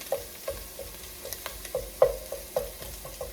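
Smoked herring browning in a pan over medium heat, a soft steady sizzle broken by repeated sharp clicks and scrapes of stirring at a fairly even rhythm, close by.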